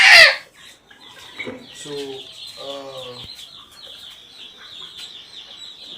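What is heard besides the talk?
chickens clucking on a poultry farm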